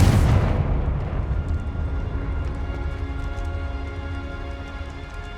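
A Confringo fire curse explodes in the Hogwarts Legacy video game, opening with a loud burst that settles into a long crackling, rumbling tail fading slowly, with no voices.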